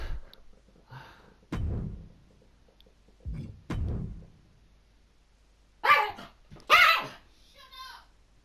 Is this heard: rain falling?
no